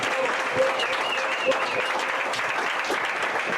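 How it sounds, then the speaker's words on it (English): An audience applauds a woman who has just finished presenting on monitoring and evaluation, the clapping dense, steady and close for the full few seconds, with some faint voices mixed in. "let's clap for her"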